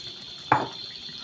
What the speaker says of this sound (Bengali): পানি দিয়ে দেব পরিমাণ মতো।